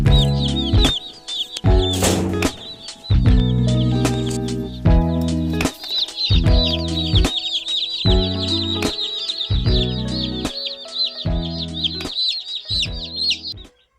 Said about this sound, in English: A brooder is where we keep our baby chicks